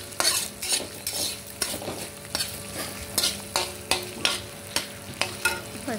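Cumin seeds, green chillies and salt fry in a pan with a steady sizzle, punctuated by regular scraping stirs roughly every half second, close and fairly loud, with no talk.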